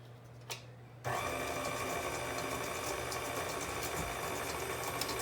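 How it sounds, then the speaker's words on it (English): An electric mixer whirs through batter as flour is added a little at a time; a steady motor hum starts after a short quiet moment and runs continuously at close range. "Put the mixer back on."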